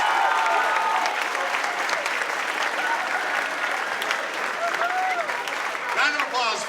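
Steady audience applause at a school district honor band performance, a dense wash of many hands clapping throughout with a few faint voices and whoops mixed in near the end.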